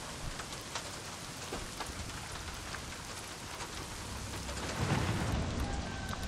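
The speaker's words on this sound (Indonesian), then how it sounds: "Hujan deras sekali ini ya." Heavy rain pours in the Days Gone video game, a dense steady hiss of drops hammering surfaces with low rumbling undertones that swell louder near the end, no voices over it.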